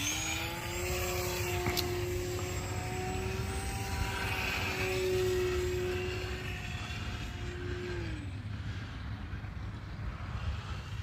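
A fast RC airplane buzzes overhead, its high propeller whine rising and sweeping in pitch as it passes, steady and fairly loud over outdoor wind, with no talking.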